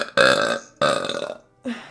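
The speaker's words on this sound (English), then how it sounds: "See, like, how's that for your burp?" A loud, drawn-out human burp comes in three bursts, the first two long and throaty, the last short, close and alone with no talk.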